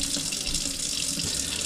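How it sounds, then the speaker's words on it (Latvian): Warm tap water runs steadily from a faucet into a sink to wash pistachios, a continuous close hiss and splash with no talking. "Viņš vajadzīgs silts ūdens, lai mēs varētu iemērt tās pistācijas un apmazgāt."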